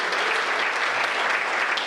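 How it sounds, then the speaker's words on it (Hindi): A crowd at a Hindi poetry gathering claps in a short, dense burst of applause, loud and continuous throughout. "इसके लिए तालियां लगा दीजिए"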